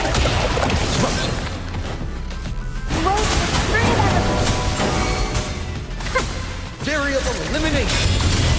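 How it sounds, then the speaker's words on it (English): Explosion bursts in the Wuthering Waves video game, loud booming crashes heard amid dense game music and effects, with voices speaking over the chaotic mix throughout. "Explosion."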